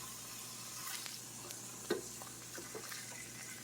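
Canadian bacon and tomato slices sizzle quietly in a frying pan, with a soft steady hiss broken by a few light scrapes and clinks of a utensil. No one talks.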